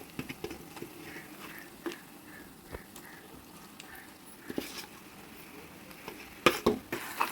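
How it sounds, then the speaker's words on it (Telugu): Soft sizzling of marinated chicken and onions in a pan with intermittent stirring and scraping clicks, a few sharper utensil knocks near the end. "ఉల్లిపాయలు అన్నీ ఒకసారి బాగా మిక్స్ చేసేసుకొని ఇందులో మనం ఫ్రిడ్జ్లో పెట్టేసుకున్నాం కదా మ్యారినేట్ చేసి ఆ చికెన్ వేసేసుకుంటున్నాము"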